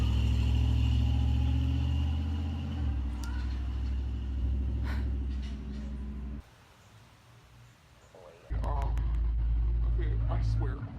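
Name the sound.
loud truck driving by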